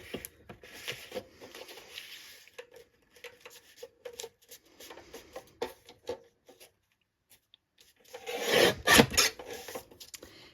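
Edges of a paper file folder being trimmed for a junk journal, giving soft rasping, scraping strokes in short bursts, close and quiet, with a louder rough rubbing flurry near the end and no voice.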